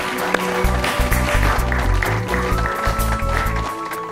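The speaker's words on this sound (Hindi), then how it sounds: "जोरदार करताली आम स्वागत जनवा आस अनिता मैडम" An audience at a stage quiz show welcomes a guest with loud, sustained applause, a dense steady clapping texture lasting several seconds, with music or voices faintly underneath.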